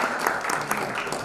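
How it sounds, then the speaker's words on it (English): An audience applauds a guest speaker, Mr. Priyan Fernando, at an evening corporate forum, a brief burst of steady, dense clapping filling the room without talk. "A round of applause for Mr."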